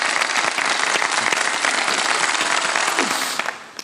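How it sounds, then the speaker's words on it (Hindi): Audience applause on a Ramadan quiz competition show, a dense burst of clapping from a studio crowd that holds steady and then tapers off near the end. "चलो भाई एक दफा तालियां बजा दे"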